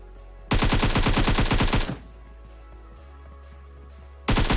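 M416 assault rifle firing in PUBG Mobile: a loud, close burst of rapid automatic shots lasting about a second and a half, then a low hum, then another burst starting at the end.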